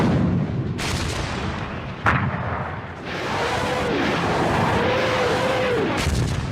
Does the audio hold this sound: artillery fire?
yes